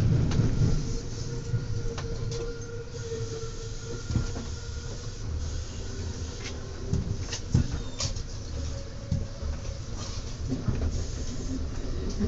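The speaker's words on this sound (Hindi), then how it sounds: "अब देखा आपने, ये डिफरेंट किस्म की ट्रेन है।" A driverless local train or metro in France rumbles along with continuous loud rolling noise, rattles and occasional clunks and squeals from the cars, with no voices heard.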